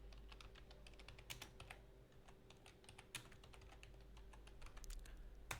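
Rapid typing on a computer keyboard, a close, fairly quiet stream of uneven key taps with brief pauses and a few louder strokes, no talking.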